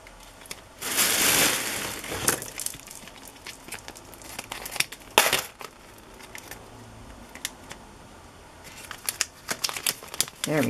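Paper die cuts snipped with scissors from a sheet of happy mail, giving close crinkling and cutting rustles in bursts, loudest early on, with quieter handling rustles between.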